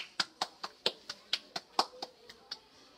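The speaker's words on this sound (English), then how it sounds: "let's give all of those children a round of applause" A single pair of hands claps about a dozen times in a steady, fairly quick rhythm, close and moderately quiet. The claps are crisp and distinct rather than a crowd's applause, and they fade slightly toward the end.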